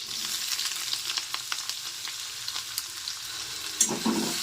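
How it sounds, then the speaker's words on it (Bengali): Chopped green chillies and potatoes fry in a hot pan with oil, giving a steady bright sizzle and crackle, with occasional stirring scrapes and a louder clatter near the end; no voices. "খুব ভালোভাবে এগুলোকে একটু ভেজে নেব।"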